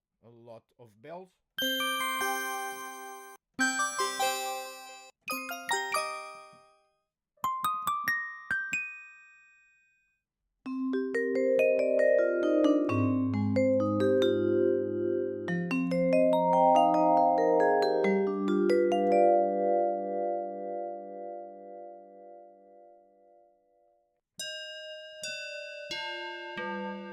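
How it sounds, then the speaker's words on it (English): Assorted bell sounds from an iOS rompler app: struck and chiming bell tones in short bursts and sustained, overlapping chords, some deep and resonant, some bright and high, played in separate passages with brief gaps. "A lot of bells."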